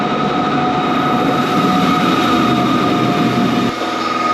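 A train runs on rails in France as it arrives at its terminus, a loud, continuous rumble with steady tonal hum and a slight shift near the end.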